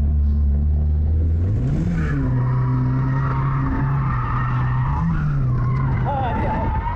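A car drifting around a lot, tires rubbing and squealing against the body over a steady loud engine drone, with shifting pitch as the car slides; continuous and close.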